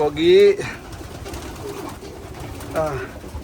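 Racing pigeons coo close by in two bursts, one at the start and another near the end, with a quieter stretch of background noise between them.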